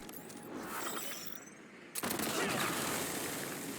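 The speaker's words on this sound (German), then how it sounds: "Einfach eine Burst-Sniper, die einfach komplett ausrastet." A burst sniper rifle fires in Cyberpunk: Phantom Liberty, letting off a rapid rattling volley that cuts out briefly before a second loud burst resumes.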